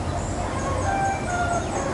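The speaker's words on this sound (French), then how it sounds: "le bruit des poules et des coqs dedans" Hens and roosters outside a chalet-style lodge, a dense steady din of clucking and crowing fowl filling the air, continuous and fairly loud throughout.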